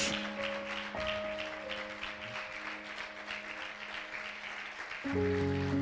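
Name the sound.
church congregation applause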